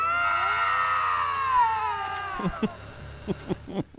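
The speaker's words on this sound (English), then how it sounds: "That is the sound of a lynx that does not want to fight." A young lynx lets out a long, wavering scream that bends downward, signalling it does not want to fight, followed by several short sharp yowls and clicks, moderately close with no talking over it.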